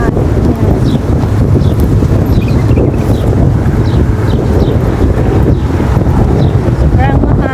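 Strong wind gusting in a park, buffeting the microphone in a loud, constant roar with faint voices and rustling underneath.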